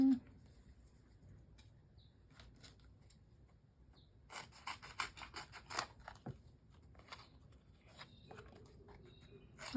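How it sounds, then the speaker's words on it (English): Stampin' Up Snips scissors cutting through a sheet of craft foam for scrapbooking: a quick burst of crisp, close snipping clicks midway, with light rubbing and handling around it. "These are great scissors"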